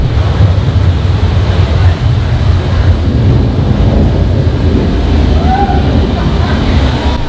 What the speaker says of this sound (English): There's actually sounds of thunder and flashing lightning.